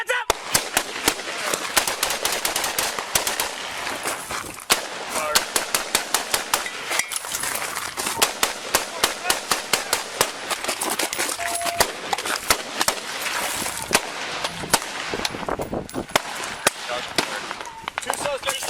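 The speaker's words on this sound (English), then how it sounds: "Two suspects down, one still firing." Police shootout with rifles and pistols, loud sharp gunshots cracking in rapid irregular volleys throughout, with people shouting over the firing.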